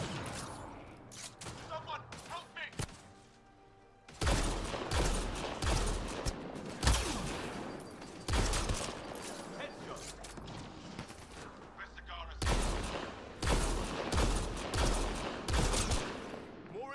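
Dense bursts of video game gunfire, loud and rapid with machine-gun style volleys and heavy booms, sparse at first and then nearly continuous with brief pauses, a voice speaking over it.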